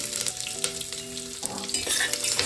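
Ivy gourd (tondli) sautéing in hot oil, a steady close sizzle with stirring scrapes layered on top throughout the short stretch, no voices.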